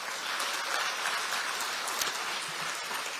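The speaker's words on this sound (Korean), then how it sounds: "이분들께도 박수 한번 좀 보내주십시오." A soft, continuous patter of audience applause comes from a crowd at a Democratic Party campaign committee disbandment ceremony, fairly distant and uniform like light rain, with no voices over it.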